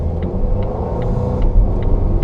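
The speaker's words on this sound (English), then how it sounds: "Even with this being supercharged and turbocharged, I'm not really into that 4-cylinder sound" Supercharged and turbocharged four-cylinder engine of a 2016 Volvo XC90 T6 R-Design, heard as a steady low rumbling drone with a faint rhythmic pulse running throughout.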